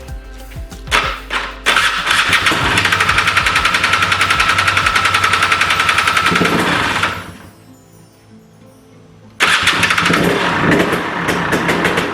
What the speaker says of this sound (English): So let's hit the starter and see what happens now.